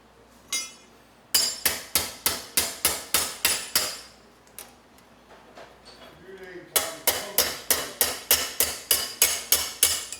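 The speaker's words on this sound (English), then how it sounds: "would you grab a regular sheet metal hammer for me, Tom?" A sheet metal hammer strikes metal in bursts of rapid, evenly spaced sharp blows, loud and close, with a pause and a few scattered clinks between the two runs of hammering.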